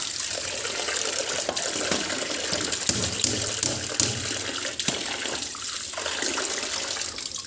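Catfish being rinsed in plain water at home before cooking in a pla ra broth: continuous splashing and pouring of water with occasional small knocks, close and steady, no talking.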